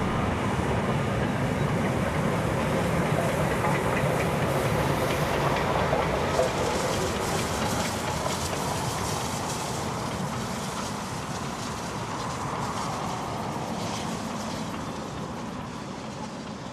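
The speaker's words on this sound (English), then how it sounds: "After its stop at Hurstville, 4501 now leads the train back to Sydney." Heritage train hauled by steam locomotive 4501 runs past on its way back to Sydney from Hurstville, a loud sustained rumble of rolling wagons and wheels that slowly fades.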